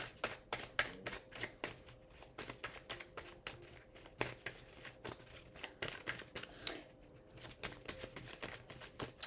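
Tarot cards shuffled by hand in a dense run of soft riffling flicks and papery slaps, steady and close for about nine seconds, with a faint low hum underneath.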